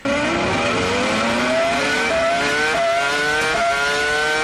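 A V10 car engine revs hard and loud, its pitch climbing steadily with a few quick drops like gear changes, heard up close and continuously with no talking.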